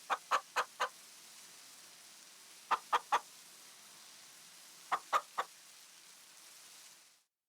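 Chickens clucking in the video game Farming Simulator 25, three short bursts of three or four quick clucks each, spaced a couple of seconds apart over a faint steady hiss.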